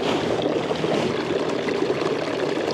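Water runs and splashes steadily over a Campania International cast stone fountain while it is scrubbed by hand, a close, continuous trickle with no talk.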